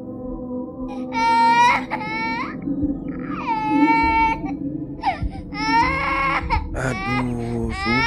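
A child cries loudly in repeated wailing bursts, with rising and falling sobs over a steady background hum.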